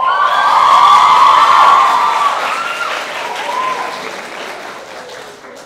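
A crowd applauds at a school graduation ceremony, steady loud clapping that swells early then gradually fades, with a few cheers mixed in and no speech over it.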